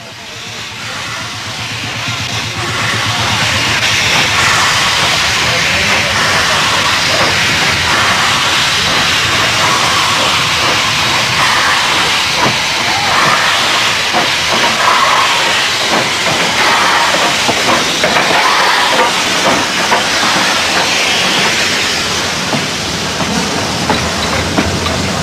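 A train pulls in somewhere in India with a loud, continuous roar of hissing steam and rumbling rail noise that swells in the first few seconds and then stays dense and steady throughout.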